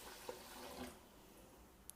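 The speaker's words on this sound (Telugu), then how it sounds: "ఈ విధంగా వాటర్ పోసేసి" Water poured into a bowl of washed rice and lentils set to soak for dosa batter, a short faint splash and trickle near the start amid quiet kitchen room tone.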